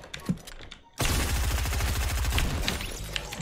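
Rapid automatic gunfire in Fortnite bursts in suddenly after a brief lull and continues as a loud, steady stream of shots to the end, with a few scattered sounds before it.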